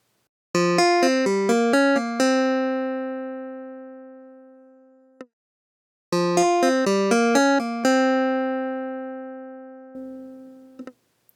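Two short runs of bright, plucked notes from the stock Logic clavinet software instrument, a quick funky phrase that rings out and decays, then repeats after a pause, played alone.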